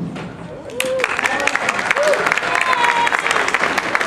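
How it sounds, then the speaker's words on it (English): Audience clapping at a Nepali Night 2012 cultural show swells in after a quiet start into loud, dense applause from a close crowd, with a few voices calling out over it. "Thank you for the clap"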